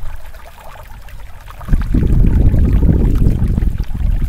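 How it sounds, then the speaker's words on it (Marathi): Water gurgles and rushes at the Dhom dam in Maharashtra, quiet at first and then swelling abruptly into a loud, close, continuous churning flow. "जो पाण्याचा खळखळाटचा जो आवाज येतोय ना"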